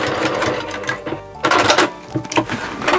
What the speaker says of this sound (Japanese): ミシンの針落として、しっかり返し縫い忘れずにね